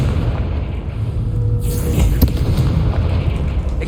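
The Confringo fire spell explodes in the video game Hogwarts Legacy. A dense, continuous roaring rumble is heard with a brief bright burst partway through, loud throughout.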